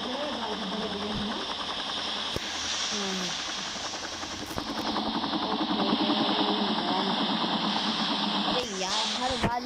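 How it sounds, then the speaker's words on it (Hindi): A continuous rotor and engine drone hums throughout, growing slightly louder, with voices talking over it. "हर बार जो हेलीकॉप्टर कहीं भी बुलाने आता है, गंदा हेलीकॉप्टर"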